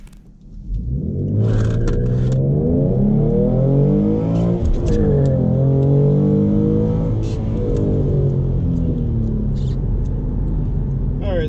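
Tuned 2016 V6 Mustang accelerating hard on a 0-60 run, heard from inside the cabin, the engine climbing through several gears in a loud, rising drone that drops briefly at each shift.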